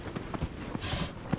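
Horse hooves clip-clop in Dragon Age: Inquisition, a soft, quick run of evenly spaced hoof beats at moderate distance, faint and without speech.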